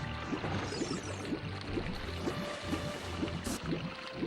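Rushing water current in the Ocarina of Time video game, a steady broadband wash running under a rhythmic, looping game music track for the whole stretch.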